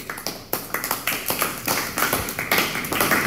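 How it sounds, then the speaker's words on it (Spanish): Audience applause at a live show as a guest named Johnny arrives, a run of sharp clapping with distinct close hand hits over a denser patter, fairly loud and sustained. "vamos a darle un aplauso fuertísimo"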